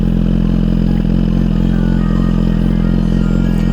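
A Suzuki GSX-R 1000 sport motorcycle fitted with a slip-on exhaust runs close by at a steady, loud, throbbing idle with a deep even pulse and faint mechanical clatter, no talking.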